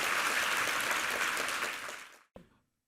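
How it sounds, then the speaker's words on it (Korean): A church congregation applauds during a Sunday service for a church anniversary, a broad sustained wash of clapping that fades out, ending with a single sharp thump. "우리 하나님께 감사와 영광의 박수 올려드리겠습니다"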